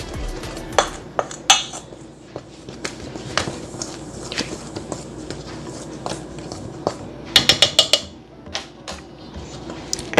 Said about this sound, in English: You just want to whisk this together or mix this together like this.